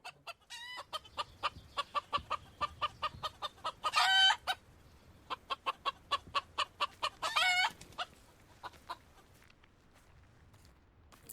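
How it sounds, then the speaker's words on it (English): Chickens in the Hogwarts Legacy video game cluck in quick repeated bursts, broken twice by a rooster's crow, fairly close and clear with no talking, the clucking fading out toward the end. "I hear the calls of the chickens."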